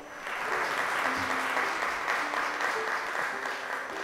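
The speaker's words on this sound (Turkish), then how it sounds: "Onu alkışlarla yerine uğurluyoruz." Sustained applause from an audience for a child heading back to her seat on a children's program, a steady dense clapping that swells quickly and holds evenly.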